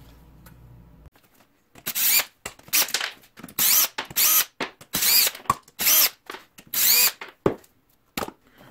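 A power tool drives out fasteners while the valve cover comes off a Predator 420cc engine, giving a series of loud, short whirring bursts with brief pauses between them.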